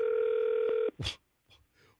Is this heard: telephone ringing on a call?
yes